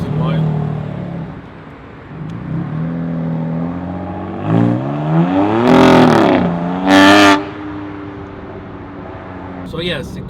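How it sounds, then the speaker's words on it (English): A BMW M4 on its stock exhaust revs and accelerates close by, its rising engine note climbing through a couple of hard pulls with loud bursts, then dropping back, while someone talks over it. "But once you floor it, it sounds really good. Yes, this sound is from the stock exhaust."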